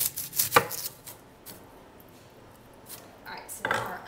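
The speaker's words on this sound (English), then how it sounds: "We're gonna chop up one large red onion." A knife chops a large red onion on a cutting board for tomato soup, with a few crisp close chops at the start and again at the end, separated by a quiet stretch, and some talking.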